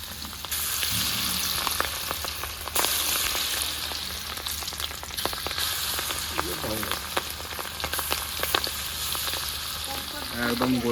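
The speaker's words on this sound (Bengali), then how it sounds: "গরম হয়ে গেছে, আমি এবারে মাছগুলো ভেজে নেবো।" Golda prawns fry in hot mustard oil with a loud, continuous sizzle and dense popping crackles, close by and steady throughout.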